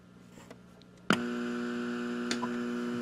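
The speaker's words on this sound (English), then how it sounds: "I can hear a bit of a hum." A Magnavox FM 43 AM/FM tube radio warming up, its mains hum switching on abruptly after quiet ticks and holding a steady buzzing drone with a faint click later on.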